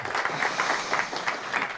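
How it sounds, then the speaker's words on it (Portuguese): Conference hall audience gives a brief round of applause, a dense, steady patter of many hands clapping in pulsing waves, moderately loud and close. "a quem eu peço uma salva de palmas pelo trabalho"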